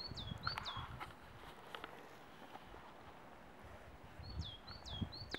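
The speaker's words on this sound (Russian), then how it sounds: "Смотри, синица поет." A tit sings in early spring outdoors, its clear two-note whistled phrases repeating at the start and again near the end, fairly distant over soft rustling and footsteps, with no voices.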